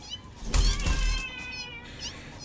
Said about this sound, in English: There's the ginger cat.